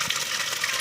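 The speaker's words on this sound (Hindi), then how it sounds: "आप धार देख रहे होंगे" Cold mountain spring water pours in a steady stream in a hill village, a continuous close rushing gush with no break.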